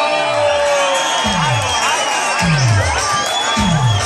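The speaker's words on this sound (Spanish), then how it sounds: "Denle un fuerte aplauso." A loud crowd cheers and whoops at a Thursday night disco in Sonsonate, the roar continuous and close over pounding music with repeated low sweeping bass effects.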